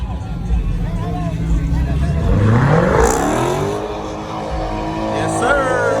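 A car revs hard during a burnout at a large car meet in Macon, Georgia, its engine sweeping up and down in pitch, loud and close, while a crowd chatters and people talk nearby.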